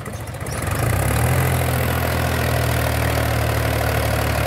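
A Mahindra 265 tractor engine pulls a loaded trolley, its steady low diesel drone rising within the first second and then holding loud and close without a break.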